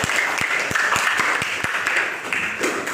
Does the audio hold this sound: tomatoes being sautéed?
no